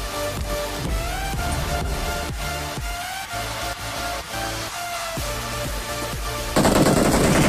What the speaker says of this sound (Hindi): देखो वो फायर कर रहा है ऊपर से